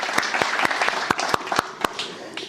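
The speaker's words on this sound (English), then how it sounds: "Please give yourself a big round of applause for being here this early this morning." Sparse applause from a small early-morning meetup audience, a handful of distinct, separate hand claps in a loose irregular rhythm rather than a full roar, moderately close and fairly quiet.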